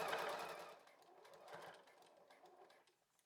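A sewing machine runs with a twin needle, stitching elastic along a bikini strap, a faint, close whirring with short pulsing surges that tails off after a few seconds.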